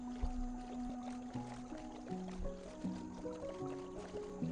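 Gentle water sloshing and splashing from a boat moving on water in Minecraft, beneath a steady stepping electronic melody, continuous with no talking.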